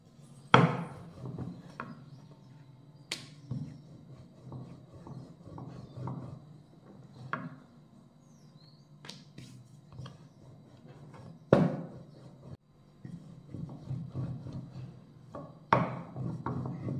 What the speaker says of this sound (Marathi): शक्य तितकी आपल्याला ही पातळ लाटून घ्यायची आहे, जाड अजिबात लाटायची नाही।